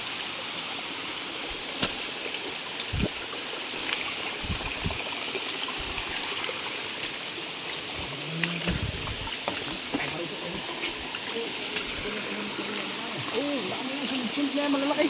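Water flowing along a rocky stream on a farm lot in the Philippines, a steady broadband rush that runs the whole time, with people talking nearby and scattered footsteps or bumps.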